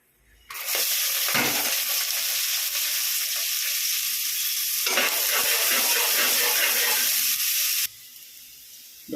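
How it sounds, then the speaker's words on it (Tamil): Sliced onion and green chili drop into hot oil with cinnamon, cloves and cardamom, bursting into a loud, steady sizzle and hiss close by, then cutting off abruptly near the end. "இப்போ இந்த வெங்காயம் பச்சை மிளகா போட்டுடலாம்"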